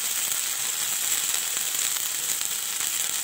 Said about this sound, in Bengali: এবার একটুখানি কষিয়ে নেবো মশলাটাকে খুব ভালো করে।